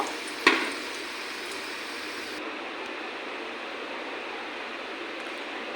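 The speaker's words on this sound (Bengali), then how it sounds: "এখন ভাজা করে নেব" Jackfruit pitha fritters fry in oil, giving a soft, steady sizzle that hisses evenly throughout after a single sharp knock near the start.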